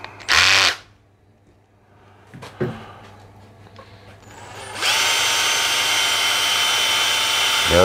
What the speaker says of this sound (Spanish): Aunque vamos a pasar a hacerle un poquito taladrito.